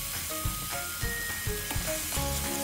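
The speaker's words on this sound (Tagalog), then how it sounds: "haluin nyo lang ng haluin hanggang sa mag-translucent na yung onion, tsaka yung medyo naluluto-luto na yung kamatis." Onion and tomato sizzle steadily in a pan as they sauté, with a spoon stirring through them and tapping the pan now and then at close range; no one speaks.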